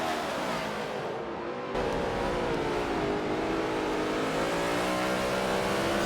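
Several race cars in a racing video game accelerate hard at a green-flag restart on a wet Maple Valley track, their engines droning loud and steady and rising in pitch throughout, with no talk over them.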